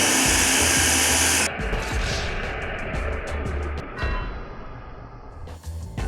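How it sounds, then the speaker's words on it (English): A food processor pulses an apple pie crust mixture of flour and salted butter: a loud motor whir for about a second and a half, then stops, followed by scattered clicks, rattles and handling noises. "Pulse mixture until it resembles coarse crumbs."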